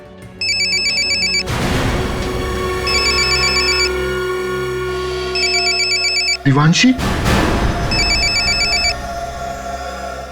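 An electronic telephone ringtone trills in repeated bursts, loud and close, while someone speaks over and between the rings.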